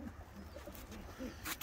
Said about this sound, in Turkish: Şurada da eşlediği kuşlar var biraz